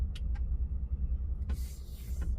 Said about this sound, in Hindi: अभी मैं गाड़ी खड़ी करता हूँ इधर